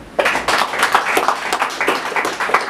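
A church congregation applauds: brisk, fairly loud clapping from many hands, rhythmic and continuous with slight swells, no talk over it.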